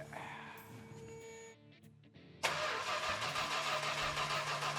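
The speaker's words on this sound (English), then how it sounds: "Let's start cranking this mother biscuit over." A Dodge Super Bee with a Six Pack engine cranks over with a quiet starter whir, then the V8 catches abruptly and settles into a loud, steady rumbling idle.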